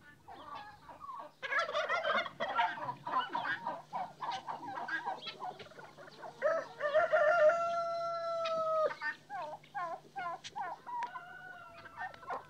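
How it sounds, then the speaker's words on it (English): Turkeys in a backyard poultry smallholding gobble in several bursts, close and clear, joined by rooster-like crowing and clucking from other fowl against a quiet rural background. "Turkeys loom large not only in Marija Balan's backyard, but also on her canvases"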